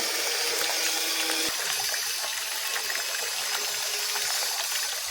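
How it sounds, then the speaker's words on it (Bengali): Water runs steadily from a tap or hose while a dog is bathed, giving a continuous close splashing hiss with faint mechanical clicks underneath. "আজকে একটু ভালো করে ফ্রেশ করে স্নান করে নিচ্ছি"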